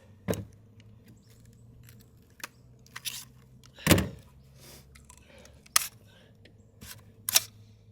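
AR-15 rifle bolt worked by hand during a torture test, heard as several sharp metallic clacks and clicks spaced irregularly over a low steady hum, with the loudest snap near the middle.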